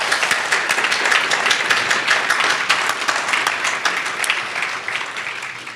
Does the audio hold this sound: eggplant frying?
no